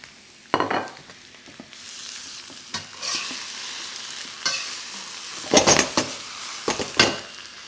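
Peppers tossed into partly cooked potatoes in a stir-fry pan raise a close, steady sizzle of frying, broken by scraping stirs and light clinks of a utensil against the pan, with no talk.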